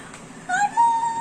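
A cat gives a drawn-out meow, rising and then holding in a thin, tonal wail, fairly close and clear over a quiet indoor background.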